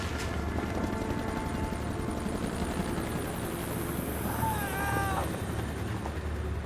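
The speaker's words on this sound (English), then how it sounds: "You could hear the rotors." Helicopter rotors passing overhead during a cold-weather survival situation, a steady broadband whir that holds for several seconds and swells slightly near the end, with no voices.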